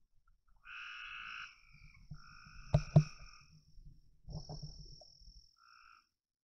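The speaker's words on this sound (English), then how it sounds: "the frogs and stuff have started." Frogs croak at night in a quiet outdoor setting, with a few close, loud rasping croaks rising over a sparse chorus of fainter calls and a steady high insect-like trill.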